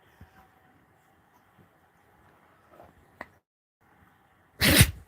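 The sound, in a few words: dog sneezing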